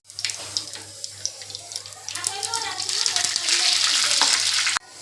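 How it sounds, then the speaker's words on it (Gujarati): Spices drop into hot oil as a tempering for dal dhokali, a crackling sizzle that grows louder and denser toward the end, with a person talking over it. "તો વઘાર હવે મારી દીધો દાળનો"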